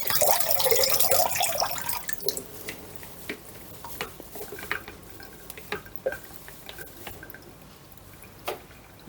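Water from washed fresh parsley drains through a colander, a brief rush of pouring liquid at the start giving way to scattered drips and small splashes, close and fairly quiet, with no talking.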